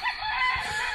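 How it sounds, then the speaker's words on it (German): Chickens cluck and crow loudly and close by in a hot village in Colombia. There is a brief, continuous burst of fowl calls with no talking. "Hier sind Hühnchen."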